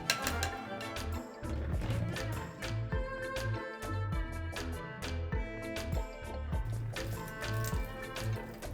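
Quinoa is rinsed under running water, a steady close wash of splashing and dripping with soft patter, while music plays in the background.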